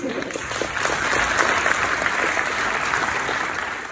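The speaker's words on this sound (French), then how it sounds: "Merci d'applaudir très très fort Vincent Sextopès." An audience claps steadily at a TEDx talk at TEDxSaclay, a dense sustained wash of applause that swells slightly and holds for several seconds, loud and close, with no voice over it.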